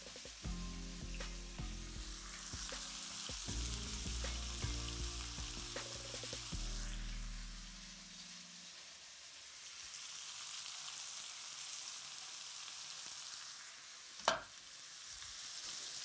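Onion and meat fry in a wok for a pointed-cabbage stir-fry stew with pineapple, a soft continuous sizzle heard quietly, with tonal background sounds fading after the first half and a single sharp clink near the end.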